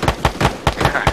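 Rapid sharp reports from 40mm grenade launcher rounds in Arma 3, about six evenly spaced punchy thumps in quick succession, close and fairly loud.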